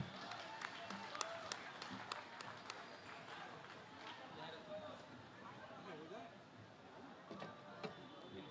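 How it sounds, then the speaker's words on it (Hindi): Scattered audience clapping at a mushaira poetry gathering for poet Aqeel Nomani, sharp claps at the start thinning into murmuring crowd and voices underneath. "अकील साहब के लिए आप तालियां बजाएं।"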